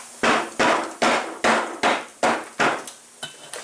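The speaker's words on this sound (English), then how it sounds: "Now I used a dead blow hammer" A dead blow hammer strikes a mower deck spindle to drive it out, eight sharp, evenly spaced heavy knocks up close, the last few fading softer.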